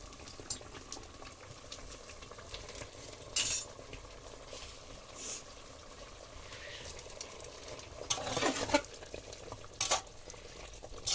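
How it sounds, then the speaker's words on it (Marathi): Prawns are stirred into a Konkani-style masala in a pan: a quiet, steady bubbling under occasional metal spoon clinks and scraping, with a louder burst of stirring toward the end. "त्या मसाल्यामध्ये हे कोळंबी टाकून घेऊया"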